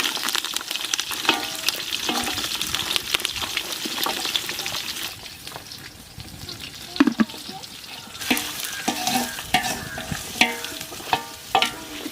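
Onions fry in a pan as the base for Chettinad crab gravy: a busy crackling sizzle with frequent stirring clicks and scrapes, easing briefly midway before picking up again, close and without talk.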